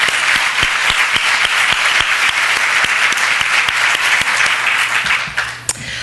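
Steady applause from a luncheon audience honoring sponsors at a United Way Women's Leadership Initiative event, a dense wash of many clapping hands filling the room evenly and tapering slightly at the very end.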